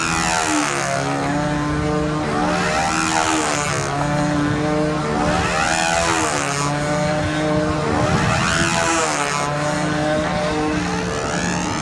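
A .60-size glow engine drones steadily on a small RC model airplane in flight, a loud continuous buzzing whine that swells and fades in repeated passes overhead.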